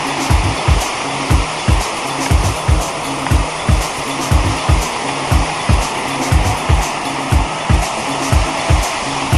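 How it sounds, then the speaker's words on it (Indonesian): Steady roaring wash of surf with rhythmic low thumps at night on Batu Karas beach, West Java, loud and close, continuing throughout without any voices. "Ini suara adalah suara gemuruh ombak pantai pemirsa."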